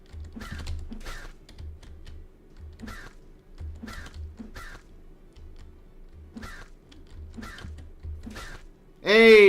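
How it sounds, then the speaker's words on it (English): Crows caw repeatedly in a video game, a steady run of harsh calls spread across the clip over soft clicking, ending with a sudden loud burst of sound. "here come the birds"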